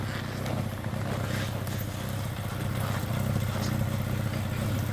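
A Yamaha snowmobile engine, just repaired after a bent ski strut and crankshaft seal replacement, runs steadily and holds its revs with an even mid-pitched drone and light mechanical clatter throughout.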